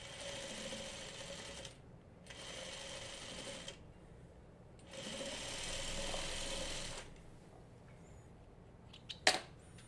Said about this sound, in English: Then I can sew these two together.